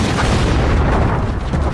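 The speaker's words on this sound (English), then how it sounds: "the largest cannon that had ever been built was put to devastating effect" The largest cannon ever built, fired during the 1453 siege of Constantinople, comes across as a dense, deep rumbling blast that fills the whole clip, loud and sustained like a booming discharge with a rolling low end.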